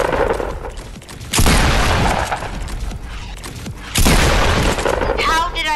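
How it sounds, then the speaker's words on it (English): Shotgun blasts in a building video game, two loud, heavy booms with crackling tails a few seconds apart, close and dominating the mix. "I just hear shotgun shots going off"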